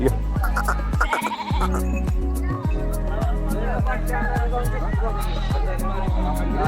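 A flock of sheep bleats over repeated rhythmic clicking or tapping, with herders talking and calling out amid the animals as the sheep are given medicine.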